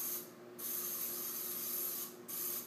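Two short hissing bursts of cooking spray onto a pancake griddle, close and fairly loud, separated by about a second and a half, over a faint background hum.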